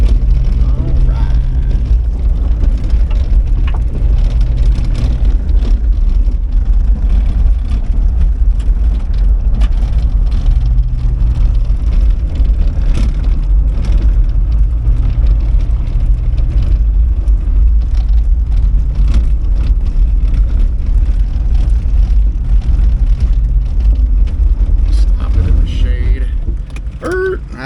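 A 1991 Mazda Miata NA engine runs steadily with a loud, close low rumble that holds even throughout and dips only briefly near the end, while someone talks over it at times.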